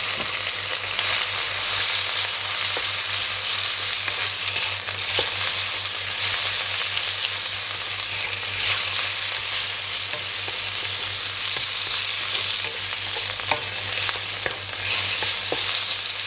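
Pork stir-fries in a hot pan, giving a loud, continuous sizzle with scattered scrapes and clatter of the spatula over a steady low hum.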